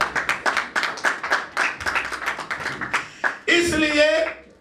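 Applause from a church congregation: a run of sharp handclaps, fairly close and uneven in rhythm, with a voice speaking loudly near the end.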